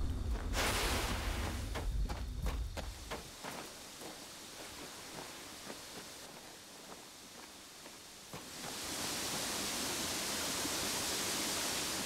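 Steady broadband rush of a waterfall in the URU: Complete Chronicles game, Eder Kemo and Eder Gira area, continuous and fairly loud, with a few soft footstep-like taps in the middle before the roar swells again.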